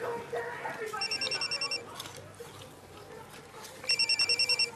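Mobile phone ringing in two bursts of rapid, evenly spaced electronic beeps with a quiet gap between them, over a murmur of soft background noise.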